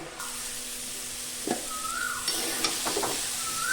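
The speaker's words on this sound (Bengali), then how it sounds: "এঁচোড়টা বেশ ভালো করে ভাজা হয়ে গেছে" Jackfruit pieces frying in oil in a wok, a steady close sizzle with a few stirring scrapes and a brief faint whistle-like tone in the background, no talking.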